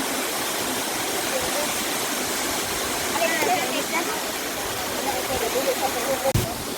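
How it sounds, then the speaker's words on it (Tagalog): Waterfall in Bohol, a broad steady roar of rushing water filling the whole scene, loud and continuous, with people talking faintly beneath it. "Naminaw sa sound sa tubig."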